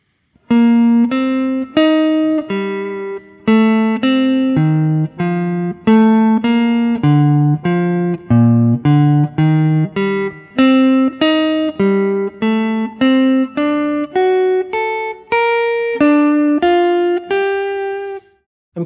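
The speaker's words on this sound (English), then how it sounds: "we can start to hear the harmony of the progression coming out and as arpeggios" Guitar playing chord-tone arpeggios over a chord progression, a steady stream of plucked single notes moving through the harmony, clear and close with no talking.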